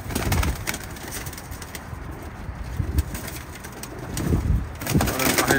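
Pigeons coo softly and intermittently nearby, with occasional rustling and a brief flutter against a quiet outdoor background.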